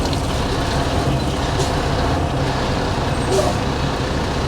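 A dump truck grinds along in low gear during road milling, its engine a loud, continuous, close drone that holds steady throughout with no voices.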